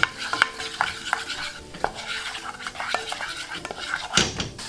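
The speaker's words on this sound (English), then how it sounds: "Mix and cook the rawness of the flour. We're making a roux here." A butter and flour roux for beef gravy stirred in a pan, with repeated light scrapes and clinks of the utensil over a soft sizzle.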